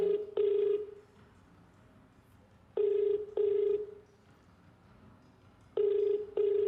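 Telephone ringing for a phone-in call on a Filipino television game show, three clear double-ring bursts spaced a few seconds apart with quiet gaps between them, no talking.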